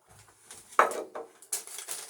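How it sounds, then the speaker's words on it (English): A frying pan is picked up and handled beside a small Coleman burner, giving a few close metallic clanks and scrapes with brief rustles in between, no talk. "And what you do is you grab a frying pan"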